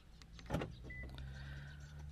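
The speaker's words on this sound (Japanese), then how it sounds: "そしてね、ドアロックします。" A short mechanical clunk of a Suzuki Spacia Gear's door locking, then a steady electric motor whir that continues for a couple of seconds.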